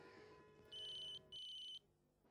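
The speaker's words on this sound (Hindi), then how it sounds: "प्लीज टेलीफोन साहब, आप तो बजिए" A telephone rings in two loud electronic trill bursts, each about half a second long with a short pause between them, over a faint indoor background and no talk.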